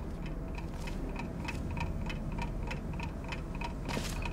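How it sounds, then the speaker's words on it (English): A clock ticks in the video game Portal Stories: Mel, a steady, even series of crisp ticks repeating about every third of a second over a faint background hum, close and fairly quiet. "I hear clock."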